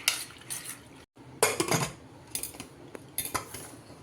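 A metal spoon mixes soaked dal with water, turmeric and salt inside a pressure cooker, giving several sharp, close clinks and scrapes in quick bursts separated by short pauses.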